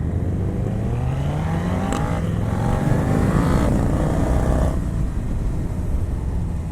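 A 2018 Suzuki SV650 ABS naked motorcycle with a V-twin engine revs loudly up close, its deep, punchy rumble climbing and falling in pitch without a break.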